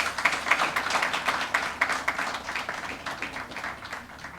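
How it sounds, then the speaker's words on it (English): An audience applauds a poet at a book release event, with distinct, rhythmic hand claps that are strongest early on and then gradually thin and fade, with no one talking over them. "a big round of applause"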